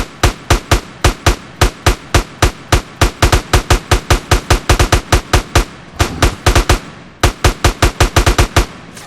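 Rapid automatic gunfire in a Grand Theft Auto San Andreas zombie mod, a loud, steady stream of sharp shots with a brief pause before the firing resumes.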